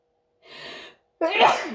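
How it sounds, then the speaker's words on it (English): Two sneezes close by, the first softer and breathy, the second louder and sharper after a brief pause. "2 sneezes for confirmation."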